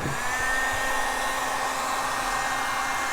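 A heat gun runs continuously at steady high power while warming a Honda Accord headlight, a smooth even whir and airy hiss held throughout with no pauses.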